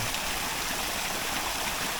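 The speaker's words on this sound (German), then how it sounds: "Fetter Wasserfall." A waterfall on a small stream in Bavaria rushes in a steady, broad, noisy wash that stays even and unbroken throughout, heard close with no voices.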